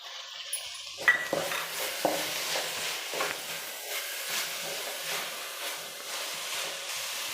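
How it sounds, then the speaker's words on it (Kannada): Tomatoes are tipped into fenugreek leaves cooking in a pan for a masala egg bhurji, followed by a couple of clear scrapes and knocks and then gentle stirring over a soft sizzle. "ಈಗ ನಾನು ಟೊಮಾಟೊ ಹಣ್ಣನ್ನು ಸೇರಿಸ್ತಾ ಇದ್ದೀನಿ"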